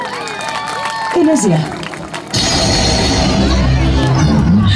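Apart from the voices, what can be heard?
audience applauding and cheering at a village festival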